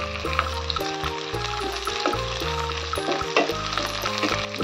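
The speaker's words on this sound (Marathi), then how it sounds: "टाकूया आपण चिरलेला कांदा. त्याला छान लाल होऊ देऊया." Chopped onion sizzles steadily in hot oil in a pan, a close, continuous frying hiss with light stirring and no talk.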